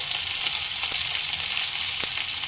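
Cut eggplant, taro and potato fry with panch phoron and salt in a pan, making a loud, constant close-up sizzle broken by a couple of soft knocks of stirring.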